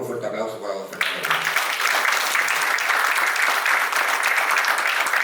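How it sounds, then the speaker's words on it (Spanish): An audience applauds for an honoree, Don Fernando, at a book launch in Pichilemu, Chile. A speaker's voice comes first, then steady, loud clapping from the room takes over and fills the rest. "Por favor, un fuerte aplauso para don Fernando."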